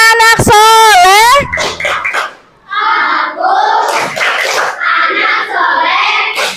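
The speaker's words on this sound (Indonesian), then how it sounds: "kita tepuk dulu ya. Tepuk anak soleh." Children in an Islamic school class shouting a rhythmic clapping chant together, loud group voices near and in unison, with claps punctuating the lines; a single adult voice sings out first before the group joins.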